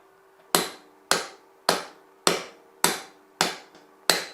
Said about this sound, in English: drive the bearing in from this side with a hammer